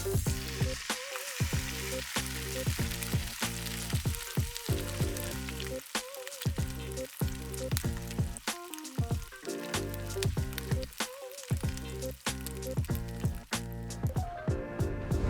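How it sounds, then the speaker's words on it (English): Catfish coated in fish fry shallow frying in oil, a loud, continuous dense sizzle with crackling pops, a few brief drops in intensity, and no voices. "Then I'm going to coat it with a fish fry, then shallow fry it."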